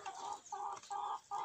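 Several young roosters of Sussex, Pavlovskaya-type and Barvistaya breeds clucking in an outdoor enclosure on a fresh morning, four loud close bursts of throaty calls in a steady rhythm with short gaps between, no talk.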